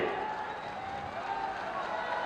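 A large crowd at an open-air political rally claps and cheers in a continuous wash of sound, steady and fairly distant, with voices mixed into the noise.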